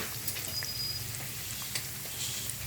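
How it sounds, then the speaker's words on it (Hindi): Breaded chicken pieces fry in oil for a crispy chicken burger, giving a steady, moderately loud sizzle with a low bubbling undertone and occasional small pops, no voices. "फ्राई होने शुरू हो गए"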